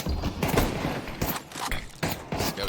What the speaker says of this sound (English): Scout shot comes out from Brokey.